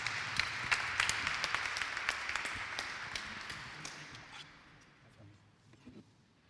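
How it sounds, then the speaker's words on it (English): An audience at a London launch evening gives a round of applause, a dense burst of clapping with sharp individual claps that fades away over several seconds. "Can we give him a big round of applause?"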